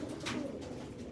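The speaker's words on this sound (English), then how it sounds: "Got some fantastic, outstanding resulted pigeons" Racing pigeons coo inside a clean loft holding about eighty birds, a low soft burbling murmur, faint and continuous with no talk.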